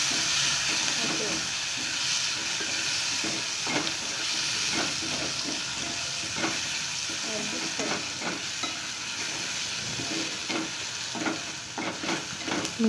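Tomatoes and green peas fry in a pan with reddened onions for soybean upma, giving a steady close sizzle and hiss with repeated stirring scrapes throughout.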